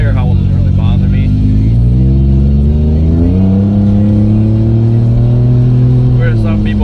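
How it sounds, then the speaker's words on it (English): Off-road tires (Amp Terrain Attack) howl while a vehicle rolls off the throttle, a loud tonal drone that slides upward in pitch, mixed with road rumble and engine noise. "the tire howl might be kind of annoying"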